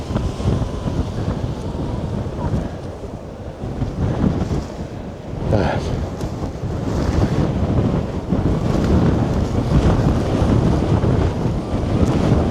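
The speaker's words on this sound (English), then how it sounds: "So we're getting gusts." Strong wind gusts batter a modified Taiji 2 tent in high winds, a loud, close roar of buffeting fabric that surges and eases in waves, with no voices.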